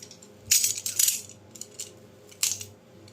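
A few quick, scratchy slicing strokes of a utility knife cutting through packing tape come in short bursts with quiet gaps between.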